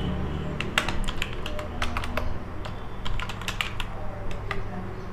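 Fast, steady typing on a computer keyboard while entering items into a cash memo table in MS Word, with close, crisp key clicks in irregular bursts and no talking.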